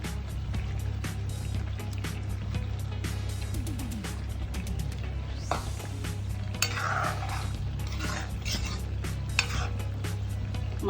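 Fish pieces going into a simmering Assamese mustard curry in a pot, with steady bubbling and sizzling, scraping stir sounds and clinks of utensil against the pot throughout.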